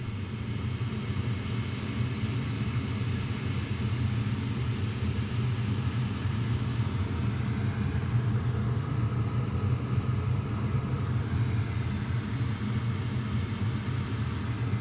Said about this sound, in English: First, we see the inducer motor turning on.